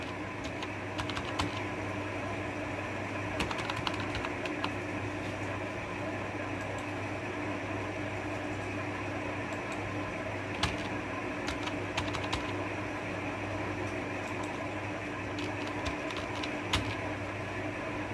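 Keys clatter steadily on a computer keyboard as a name is typed into an MS Word document, with a low fan hum running underneath and no one speaking.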